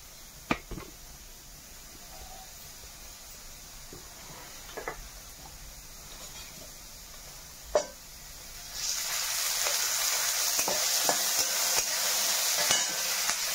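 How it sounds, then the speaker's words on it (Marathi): Quiet kitchen ambience with a few clinks, then from midway a steady sizzle of onion frying in a pan rises and continues to the end. "कांदा टाकलाय भाजायला आता कढईमध्ये."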